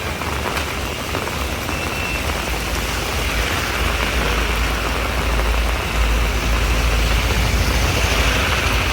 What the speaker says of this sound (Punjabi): ਮੈਂ ਥੋੜੀ ਦੇਰ ਲਈ ਮੈਂ ਚੁੱਪ ਕਰਦਾ ਤੁਸੀਂ ਮੀਂਹ ਸੁਣੋ